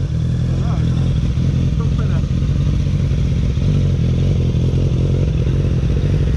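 A Honda CB650R motorcycle idles close by with a constant, heavy engine rumble and some clatter, while people talk over it.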